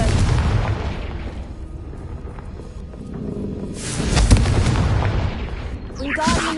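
A Confringo blasting spell explodes in the Hogwarts Legacy video game, a loud rumbling boom rising out of dense continuous game noise and combat sounds.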